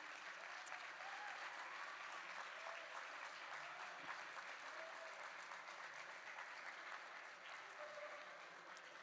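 Steady applause from a seated gala crowd honoring the CHIRLA Action Fund board members at the organization's 36th anniversary, even and sustained throughout, fairly distant, with no voices rising above it.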